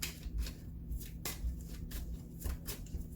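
Tarot cards are shuffled and drawn by hand in a quiet room, with a run of soft, rhythmic riffling bursts and light card slaps, close and fairly faint.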